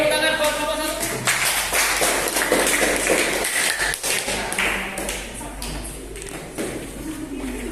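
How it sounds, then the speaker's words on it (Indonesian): A classroom group claps for the first student group after their presentation on the Majapahit kingdom, a dense, steady patter of many hands that carries on for several seconds with some voices mixed in. "tepuk tangan buat kelompok 1"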